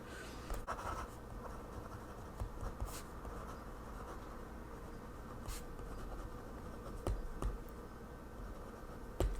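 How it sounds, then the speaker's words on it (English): Pen scratching on paper in an art journal, close and quiet, with continuous soft scribbling strokes and occasional sharper taps as lines begin and end. "The first thing we're going to do is just start writing about that thing that is bugging us."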